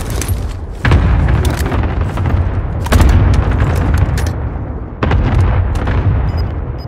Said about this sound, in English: Allied cluster strike in cover.